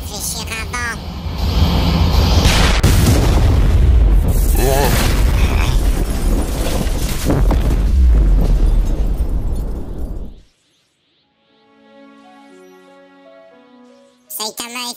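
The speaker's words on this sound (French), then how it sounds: "C'est bien pensé d'avoir mis une explosion dans ton coup de poing" A punch with an explosion in Roblox Brookhaven sets off a long, loud roaring blast of heavy rumble and crackle that lasts about ten seconds, followed by a sudden drop to quiet musical tones and a brief final burst.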